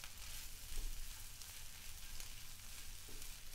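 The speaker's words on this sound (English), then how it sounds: "I should be stirring this a little bit more frequently because it's starting to scorch a little bit" Shrimp fry in a hot pan with a dense, continuous sizzle, close and steady, with faint scrapes of stirring mixed in and no talking.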